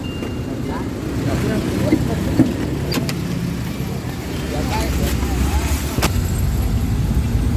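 Inside an angkot minibus heading to Terminal Jombang: a constant engine drone and road rumble with a few rattles and clicks, and voices talking over the ride.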